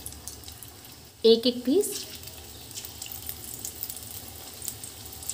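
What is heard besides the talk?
mix bhujia pakoda frying in hot oil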